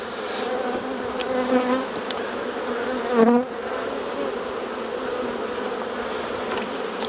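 Honey bees hum steadily around a hive being gently inspected, a close, continuous buzzing with a few brief louder swells as individual bees pass near, no voices present.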